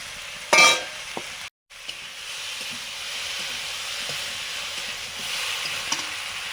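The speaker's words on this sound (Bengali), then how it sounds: "ভেজে রাখা আলুগুলো দিয়ে দিলাম এখন" Fried potatoes going into a hot pan, starting with a sharp burst, then a steady sizzle and hiss of frying that runs on alone, close and moderately loud.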